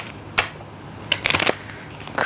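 An oracle card deck being shuffled close up, a brief riffle followed by a denser burst of card flicks and rustles.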